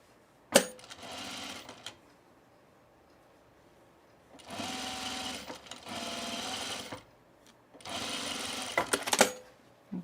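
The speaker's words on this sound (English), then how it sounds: "I'm gonna edge stitch. And I'm gonna start my edge stitch in the seam allowance." A sewing machine edge stitches a fabric seam on summer pants in three steady, close-up whirring runs separated by brief silences, with a sharp click at the start.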